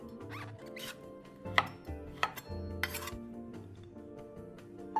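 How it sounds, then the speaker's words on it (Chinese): Knife strokes slicing a peeled Chinese lap cheong sausage on a board, a series of sharp close taps and clinks against a steady kitchen background, with no talk. "臘腸1條，去衣後切成片"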